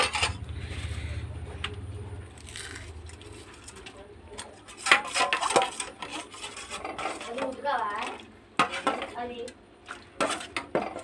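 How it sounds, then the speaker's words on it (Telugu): Spoon scraping and stirring yogurt and masala spices into biryani in a pot, irregular rasping strokes close by, with intermittent talking throughout. "ఇదైతే పెరుగు మసాలాలు వేసి కలుపుకోండి"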